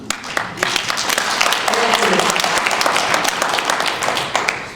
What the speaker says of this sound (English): Applause takes time